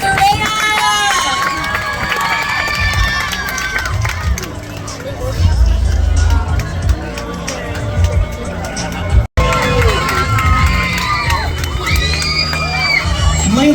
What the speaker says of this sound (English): Give a round of applause for Raina!